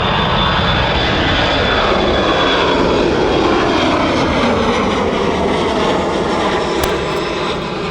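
A cargo plane takes off at night from East Midlands Airport, a loud, steady engine roar that fills the whole stretch, close and unbroken, with no talking.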